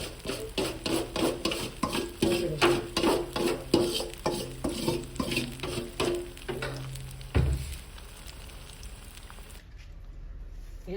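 Jamaican salt fish fritters fry in a pot of oil with a steady rhythmic scraping and sizzling, about twenty regular strokes, then a knock and a quieter tail before silence.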